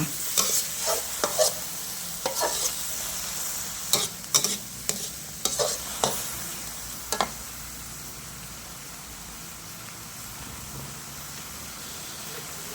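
Thai eggplant and basil stir-fried in a pan with light soy and seasoning sauce, a steady close sizzle broken by a run of sharp spatula scrapes and clatters early on, then settling into an even hiss with no talking.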